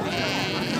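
A single goat bleats at a rural sheep and goat market, a short, close cry amid busy background chatter.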